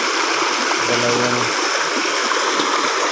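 Spring water flowing over rocks, a steady broadband rushing and trickling that fills the whole clip, close and continuous, with a person speaking briefly over it.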